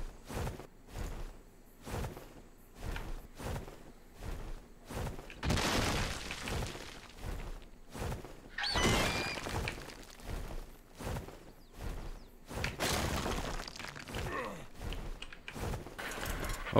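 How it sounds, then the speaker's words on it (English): Repeated crashing, shattering blows in Ark Survival as ceilings on top of a taming pen are destroyed, a steady run of sharp hits with several louder bursts of debris and rumble, close and with no talking. "I just destroyed all those ceilings on top of the taming pen"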